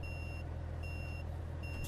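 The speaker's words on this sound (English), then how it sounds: "beeping sounds are just really annoying and they constantly go on" A Kenworth T908 B-double truck in American Truck Simulator gives faint, evenly spaced reversing beeps over a constant low engine rumble, repeating about three times with no talking.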